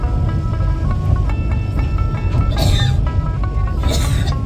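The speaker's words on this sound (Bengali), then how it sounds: "ট্রেনের 1 ঘন্টা ডিলে করে আমাদের ট্রেনটা ছেড়ে দিল।" A passenger train pulls out on the Dhaka to Chittagong line. Its steady low rumble and rattle are loud and close, with scattered clicks and metallic squeals throughout and no voices.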